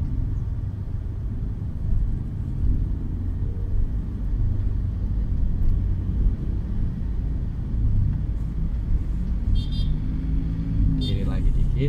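A car on a public road accelerates gently during a driving lesson, its low engine rumble and road noise steady throughout with an instructor's voice speaking over it.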